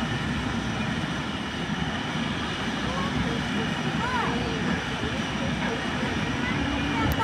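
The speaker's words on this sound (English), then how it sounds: "the prop plane is leaving too soon" Propeller plane departing Hakodate Airport, a steady loud engine drone that holds through the whole stretch, heard from an observation deck, with people talking over it.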